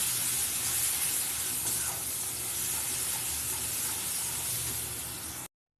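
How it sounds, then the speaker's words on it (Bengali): Spice masala sizzles in a pan with browned onions for prawn curry, a steady loud frying hiss that continues without a break, with no talking, then stops abruptly near the end. "মশলাটা দিয়ে এবার ভালো করে কষিয়ে নিতে হবে"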